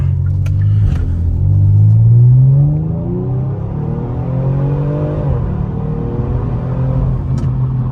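A sports car accelerating hard to 70 from inside the cabin, engine note rising in pitch through the gears with a deep steady rumble, loud and close, no talk.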